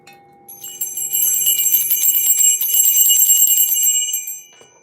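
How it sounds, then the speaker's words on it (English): A small metal bell rings rapidly and continuously for about four seconds, bright and close, then fades out, with no talking. "I am called to ring a bell."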